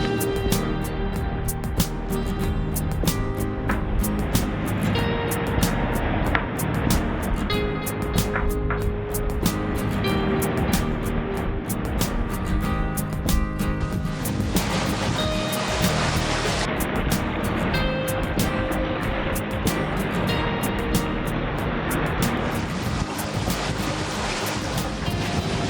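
A sailboat beats upwind in about 12 knots of wind, with waves rushing and slapping against the hull in a dense, continuous wash of water and wind noise, loud and close.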